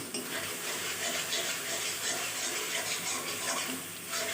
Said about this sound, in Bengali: এখন মশলাটা ভালোভাবে কষিয়ে নেব